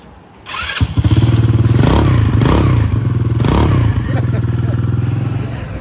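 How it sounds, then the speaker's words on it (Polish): A vehicle engine in Mexico catches and settles into a loud, steady, close-up throbbing idle with a rough motorcycle-like rumble, lasting several seconds; a voice speaks briefly. "Słuchajcie tego dźwięku silnika."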